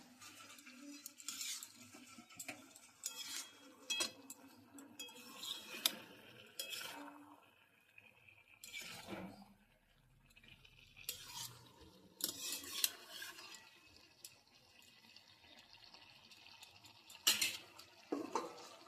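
A spoon scrapes and clatters in a pan as brinjal and cabbage curry with garam masala is stirred. The metallic scrapes come in short, uneven bursts with quiet gaps between them, close and fairly faint.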